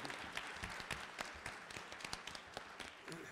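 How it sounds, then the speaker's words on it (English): Audience applause at a live-streamed higher education center event, a crowd's scattered claps sounding quiet and somewhat distant, steady for a few seconds with irregular sharper hits poking through. "please give her a round of applause"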